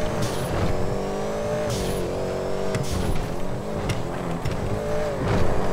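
Cars race in a street racing video game, engines roaring continuously with revving rises and falls and occasional tire squeal, loud and steady throughout with no talking.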